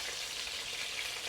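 Close, steady sizzling of chicken frying in a hot pan, a dense crackling hiss with no voices.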